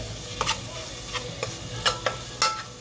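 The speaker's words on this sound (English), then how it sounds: "So our meat is browning pretty good." Ground meat browning in a pan for a mild chili, with a soft steady sizzle broken by several sharp scraping stirs of a utensil against the pan, close and moderately loud.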